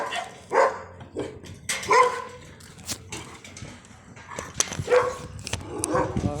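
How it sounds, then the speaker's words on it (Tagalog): A big dog barks in scattered, loud bursts nearby, mixed with yips and other dog sounds, with some faint background voices. "ay, laki ng aso."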